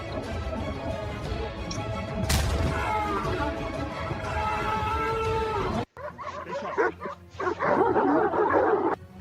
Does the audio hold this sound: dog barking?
yes